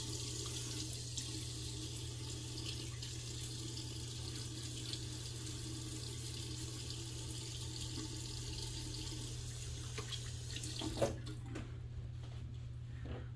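Tap water runs steadily while someone wets their face before shaving with a 107-year-old razor, a constant close hiss over a low hum that stops near the end, leaving a few faint splashes.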